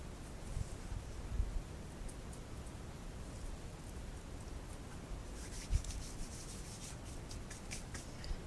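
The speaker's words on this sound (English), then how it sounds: "give it a good rub" Hands rubbing oil and seasonings into pizza bread make a steady, soft, close-up rubbing and scraping sound with a few faint knocks.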